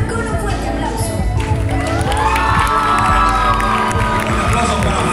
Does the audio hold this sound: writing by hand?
no